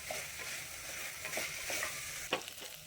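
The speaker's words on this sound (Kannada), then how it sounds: "ಬೇಳೆ ಹಾಗೂ ಅಕ್ಕಿಯನ್ನು ಈ ತುಪ್ಪದಲ್ಲೇ ಸ್ವಲ್ಪ ಹೊತ್ತು ಫ್ರೈ ಮಾಡಬೇಕಾಗುತ್ತೆ." Lentils and rice frying in ghee for khara pongal, a steady close sizzle with a few scraping stirs of a spoon against the pan, no voices.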